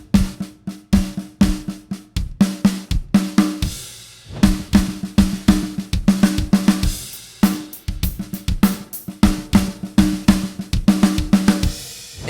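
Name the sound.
drum fill with an odd sticking pattern played twice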